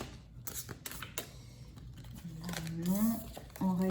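Cards are shuffled and drawn close by, with soft riffling and flicking rustles, and a voice comes in over the final part.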